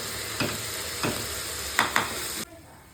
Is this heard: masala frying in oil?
yes